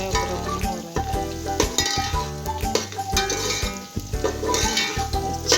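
Onions browning and being stirred in a pan for pota kaleji chawal, a steady loud sizzle with repeated scraping and clanking of the spoon against the pan throughout, no talking.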